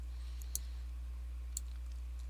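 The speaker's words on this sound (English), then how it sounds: "And I'm clicking too fast" Two sharp computer mouse clicks about a second apart during play of a B-17 bomber strategy game, close and crisp over a steady low electrical hum.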